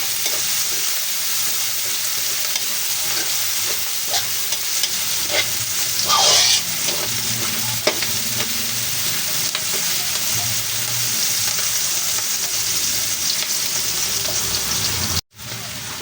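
Three sliced white onions sauté in hot oil for chicken afritada, making a loud continuous sizzle up close with intermittent stirring scrapes, and a brief sharp cutoff near the end; no talking is heard.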